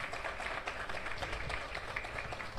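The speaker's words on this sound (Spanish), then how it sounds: "Fuerte los aplausos, por favor." Faint, distant audience applause at an awards ceremony in Guatemala, a continuous even wash of clapping with no clear individual claps.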